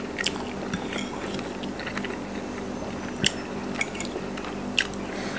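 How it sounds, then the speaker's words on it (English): Close-up chewing of fried chicken bone and skin, with wet mastication punctuated by a few sharp, loud crunches. "Man, did you hear that crunch? This bone."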